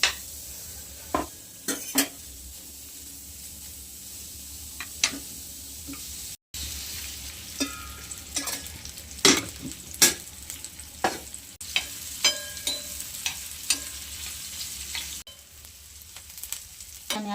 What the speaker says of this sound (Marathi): कांदा तळून घेऊयात आपण